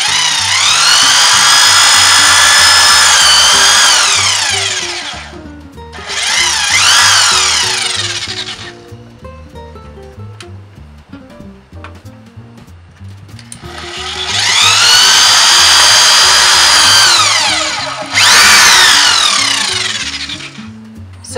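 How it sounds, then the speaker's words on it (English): Electric drill boring a pilot hole into recycled pallet wood, two long loud whining bursts with speed changes, separated by quieter pauses with light handling noise. "So the first thing I have to do is drill a pilot hole."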